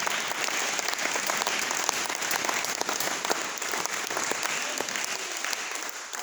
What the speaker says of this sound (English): Let us give God a hand clap of praise.